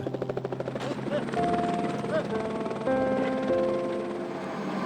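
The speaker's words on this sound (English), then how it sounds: "Helicopter after helicopter, and sheep after sheep, this goes on all day long." A helicopter's rotor thumps rapidly and steadily nearby, its drone layered with engine whine and a second aircraft joining partway through, during a bighorn sheep relocation in the Catalina Mountains.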